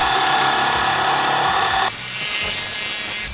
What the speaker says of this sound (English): I'm gonna start off with some 1/4 inch Luon plywood here.